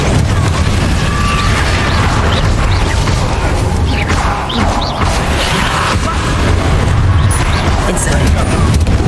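An Incendio fire spell blasts during a frantic Hogwarts Legacy battle. Loud booms and bursting pops repeat amid a continuous thick rumble of combat effects.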